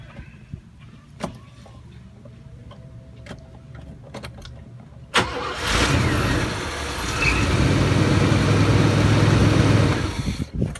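An Oldsmobile Cutlass Supreme 307 cubic-inch V8 cranks and starts after a few faint clicks and knocks, then settles into a steady, loud close idle.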